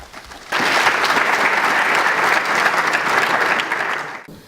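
Audience applause at a geopolitics conference on the DRC, a steady burst of clapping that starts abruptly, holds for several seconds and then stops.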